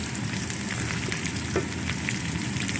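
Onions browning in hot oil in a frying pan for a Punjabi potato, carrot, pea and fenugreek dish give a steady, dense sizzle throughout, close and fairly loud, with faint occasional stirring clicks and no voices.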